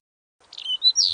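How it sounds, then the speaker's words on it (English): A few quick, high bird chirps and tweets ring out after a moment of silence, clear and close with nothing else around them. "48 birds chirp."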